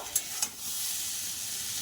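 Potatoes and sweet pumpkin with two green chillies frying in a pan: a steady, close sizzle, opened by two quick stirring clacks.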